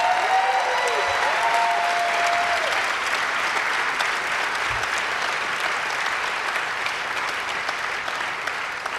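Large audience applause at the World's 50 Best Restaurants 2022 awards ceremony, a loud, steady roar of clapping from a packed room that runs unbroken throughout, with a few brief tonal sounds early on.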